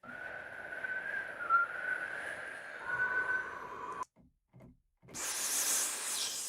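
A person imitates wind with the mouth, first holding a thin, wavering whistle-like tone, then pausing briefly before a loud, breathy rushing gust.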